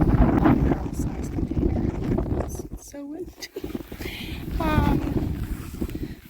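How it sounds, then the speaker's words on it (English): Gusty wind buffets the microphone outdoors in a home garden among potted plants in large barrel containers, a steady low roar throughout, while a person talks over it. "It's so windy."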